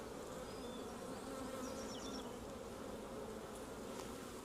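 Honeybees hum in a dense, continuous drone during a hive inspection, close and even, with a few faint higher chirps drifting over the buzz and no voices.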